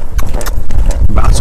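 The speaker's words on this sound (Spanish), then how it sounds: "Ya que el caballo está quieto, vamos a galopar." A horse galloping during a riding lesson, hooves striking the ground in a quick, loud, close rhythmic clip-clop of several beats with heavy thudding between them.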